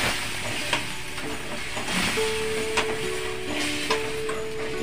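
Masala paste hisses and sizzles steadily in a hot pan for a dried salted fish curry, with a few soft clinks of a spoon over the continuous frying.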